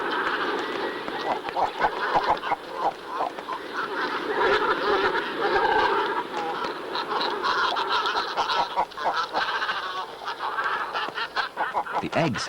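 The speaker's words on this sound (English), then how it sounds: "when they congregate on their nesting grounds, a chorus of growls, croaks and clucks shatters the peace" Great cormorants at a crowded nesting colony raise a continuous chorus of growls, croaks and clucking calls, many birds overlapping close and far in a raucous, unbroken din.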